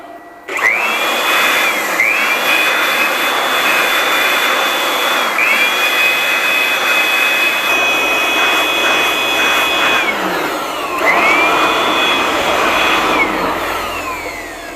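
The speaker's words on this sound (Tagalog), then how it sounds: "marinig natin, meron yung fan dito na nagpapalamig" A solar inverter charger's cooling fan whirs loudly and continuously, its pitch dipping and rising in a few cycles, close and constant with no talking.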